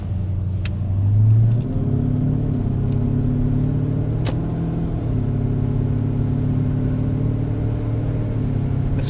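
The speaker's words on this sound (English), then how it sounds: "It's kind of soothing to have a V8 just under your right foot." A 1998 Lexus GS 400 with a V8 engine and five-speed gearbox accelerates, its engine rumble rising and then settling into a steady, loud drone heard from inside the car.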